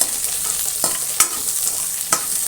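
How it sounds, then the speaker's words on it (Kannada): Smashed garlic sizzles and crackles in hot oil with onions for a red chutney, a continuous close fry hiss broken by a few sharp spatter pops and stirring scrapes. "ಯಾಕಂದರೆ ಇದು ಬೆಳ್ಳುಳ್ಳಿ ಸಡನ್ನಾಗಿ ಎಣ್ಣೆಯಲ್ಲಿ ಹಾಕೋದ್ರಿಂದ ಸಿಡಿತಾ ಇರುತ್ತೆ"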